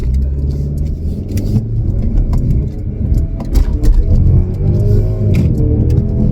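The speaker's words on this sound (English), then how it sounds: "put it in sport, I'm going to give it some gumption, and I'm going to just take off." A 2025 Mercedes-Benz CLE300 in sport mode accelerating hard from inside the cabin, a loud steady engine drone that climbs in pitch and holds strong throughout.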